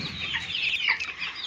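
Chickens clucking inside a large poultry shed, a steady overlapping chorus of close, busy calls from many egg-laying hens with no talking.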